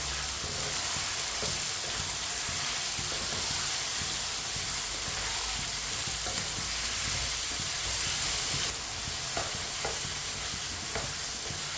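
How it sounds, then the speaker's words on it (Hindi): Chopped tomatoes and green chillies frying in a pan for aloo matar pulao, giving a steady, moderate sizzle with occasional faint stirring clicks throughout. "टमाटर को भी 2 मिनट के लिए पका लेंगे।"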